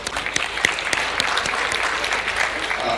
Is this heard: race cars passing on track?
no